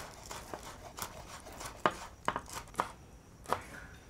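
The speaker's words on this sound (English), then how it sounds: "Chop up a little bit of spring onion for some garnish." A knife chops spring onion for garnish on a board, with about eight crisp, sharp taps at an uneven pace. The chopping is quiet and close, with no talking.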